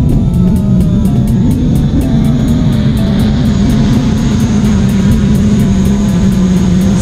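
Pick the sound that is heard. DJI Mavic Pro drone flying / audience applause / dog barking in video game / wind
DJI Mavic Pro drone flying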